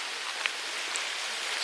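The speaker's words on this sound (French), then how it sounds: "il pleut pas trop fort pour l'instant" Light rain in Dublin hisses steadily with a few faint drips standing out, fairly close and even, with no talking.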